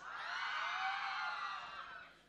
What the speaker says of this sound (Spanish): A ver, mujeres, grito a la de tres.